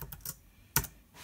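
Key presses on a Bluetooth keyboard paired with an Inrico TM-7 radio, a few quick clicks in a short burst and then one sharper tap, close and fairly quiet, with no talking.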